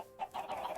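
Minecraft chickens clucking inside a chicken coop in a video game: a few short, mid-pitched clucks in a quick irregular run, close and clear over a quiet background.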